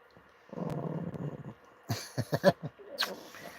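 A mixed-breed dog grumbles and growls softly close by, a low rumbling stretch followed by a run of short huffing snorts and whines, quiet and alone in a still room.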